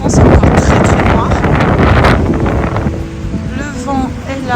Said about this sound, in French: Le vent est là.